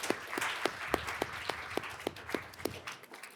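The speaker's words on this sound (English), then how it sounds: "Can we give Dr. Huddle a big round of applause for her new role?" A smallish school board meeting audience claps for a new school principal: scattered, fairly faint individual claps in an uneven rhythm, with no voices over it.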